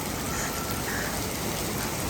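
Heavy rain pouring outdoors on a street in Italy, a dense, even hiss of drops hitting surfaces, steady and close with no voices.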